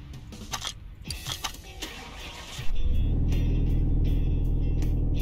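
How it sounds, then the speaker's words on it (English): A Maserati engine in Car Mechanic Simulator 2018 cranks and catches, then settles into a loud, steady idle rumble after some brief clicks and clatter at the start. "It does have a slightly different engine sound."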